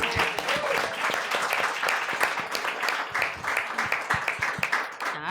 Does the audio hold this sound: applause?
yes